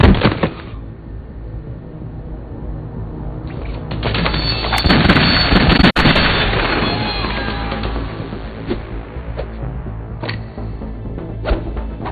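Turret gunfire in Metal Gear Solid 2 during the tanker incident, a sustained loud burst of rapid shots with heavy impacts and a sharp crack near the middle, tapering into scattered bangs toward the end.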